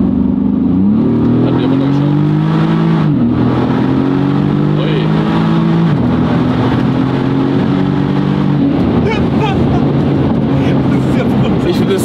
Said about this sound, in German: Auf welchem Gang sollen wir am besten mal rausbeschleunigen? Oder können wir direkt Vollgas?